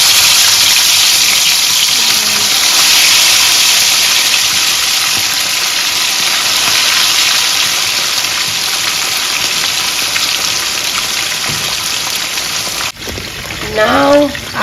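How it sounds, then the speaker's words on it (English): Fish frying in a pan for a fish stew gives a loud, steady, hissing sizzle that runs on without a break, and a voice cuts in briefly near the end. "Let's go ahead and fry our fish"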